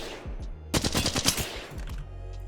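Rapid automatic fire from a Flatline rifle fitted with a 3x optic in Apex Legends, a loud, dense burst of roughly a dozen shots lasting over a second, with quieter game ambience before and after.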